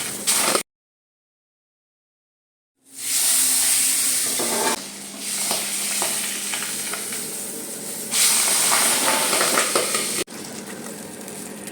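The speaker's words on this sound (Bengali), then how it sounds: "এবার কড়াইয়ে তেল গরম হলে মাছগুলো ভালো করে ভেজে নেব" Pabda fish frying in hot oil in a wok, a loud crackling sizzle that starts after a silent gap, shifting in intensity as the pieces settle, with no talk.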